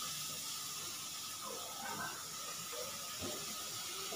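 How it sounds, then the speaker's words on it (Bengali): Spice paste of chili, salt and turmeric hissing in a pan of fried onions, a steady, fairly quiet sizzle running throughout with faint crackles and stirring. "তার মধ্যে এই মশলাটা আমি দিয়ে দিলাম।"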